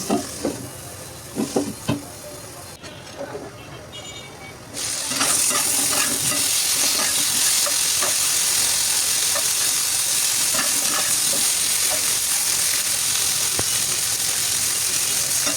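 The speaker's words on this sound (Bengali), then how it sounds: "এটা দিয়ে এখন আলুগুলো ভেজে নিচ্ছি" Potatoes frying with turmeric, chili, coriander and salt start with a few clattering stirs over a soft sizzle, then the frying jumps to a loud, steady hiss that holds close and unbroken to the end.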